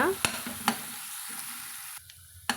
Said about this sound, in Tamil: அதையும் சேர்த்து நம்ம இது கூட வதக்கலாங்க நல்லா பச்சை வாசனை போக இதை வதக்கி விட்டுக்கலாங்க